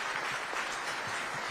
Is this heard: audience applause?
yes